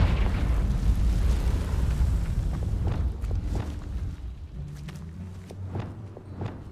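Confringo, an explosive fire spell in Hogwarts Legacy, goes off as a dense booming burst with a long rumbling tail, while footsteps and game ambience continue underneath.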